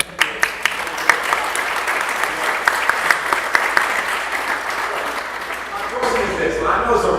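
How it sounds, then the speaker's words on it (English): Audience at a book launch event clapping in a sustained round of applause, dense and close with some sharper individual claps standing out, fading slightly toward the end. "can you just give him a round of applause?"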